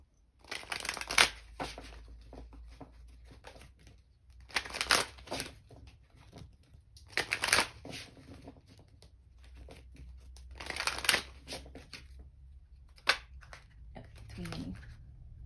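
Tarot oracle cards being shuffled by hand, four or five separate riffling bursts of crisp card flicks at close range with quiet pauses between them.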